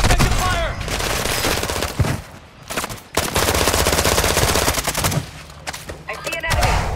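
Sustained bursts of automatic gunfire in a Call of Duty match, loud and dense with rapid overlapping shots and brief lulls, over game effects and in-game voice callouts.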